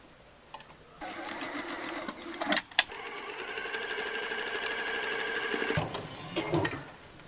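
A sewing machine back stitching over the handle of a fabric bottle carrier, running in a steady rapid whir for several seconds with a few clicks and pauses at the start and end, fairly quiet.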